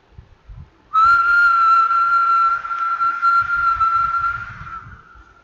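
A steady, single-pitched human whistle at about 1.2 kHz starts abruptly and holds for about four seconds, loud and close, then fades out over faint low background noise.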